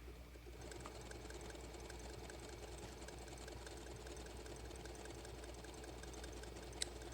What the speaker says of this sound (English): now the needle is just going to be bouncing back and forth between the applique and the pocket continuously